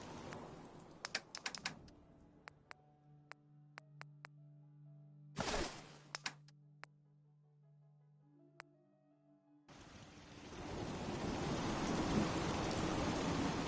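Rain and thunder from the video game Fallout 4, with steady rainfall under rolling rumbles, broken by sharp keyboard clicks and a brief silence before the rain returns louder.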